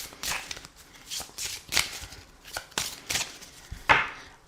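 Large Lenormand cards are shuffled in quick papery bursts, several separate riffles and slaps at an uneven pace, close and fairly crisp with quiet gaps between.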